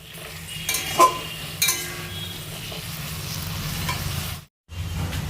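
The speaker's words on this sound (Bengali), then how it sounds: "এবার এটাকে একটু ভালো করে নেড়ে চেড়ে একটু ভেজে নেব" Garlic and chopped onion sizzle steadily in a pan while being stirred for butter chicken, a continuous close frying hiss broken by a few scraping stirs and one brief dropout near the end.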